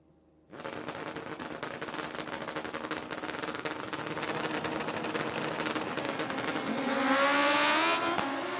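Sportsman drag racing motorcycles, Liguori Drag Racing Shootout final round with two bikes side by side, one launching a 502, the other a 595, blast off with a sudden loud roar that builds into sustained high-revving engine wail, growing louder toward the end.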